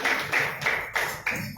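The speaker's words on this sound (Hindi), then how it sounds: "तालियां" Congregation clapping in a church service, a dense burst of handclaps with rhythmic surges, loud and close, with no speech over it.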